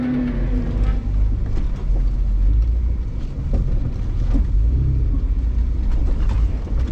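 A vehicle crawls over a rough, excavator-torn dirt trail with a steady low engine rumble and continuous bumping and jostling noise throughout, close and fairly loud.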